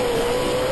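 A brief, loud, sustained roar from a TORC off-road race truck's Borla exhaust, rising in tone as the engine revs hard above 6,000 rpm.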